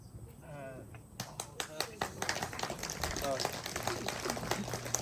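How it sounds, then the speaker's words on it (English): Audience clapping at a celebration gathering, a ragged burst of many hands that starts after a voice and grows steadily denser, with talk mixed in underneath. "You're clapping for him, I hope."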